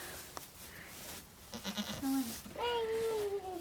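Baby goats kept as new farm pets bleat several times at close range, short wavering cries that end in one longer, sustained call, with faint background voices.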